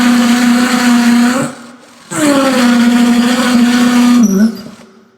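A budget cordless drill-driver motor tightening a screw gives two loud, close whirring runs separated by a short pause, with the pitch dipping as it strains near the end of the second run before cutting off.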